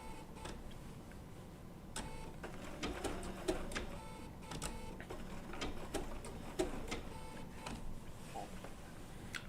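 A Bernina B790 PRO sewing machine with a 20C open-toe foot stitches wool appliqué, running with a fast, quiet mechanical rattle and occasional louder clicks as it stops and pivots.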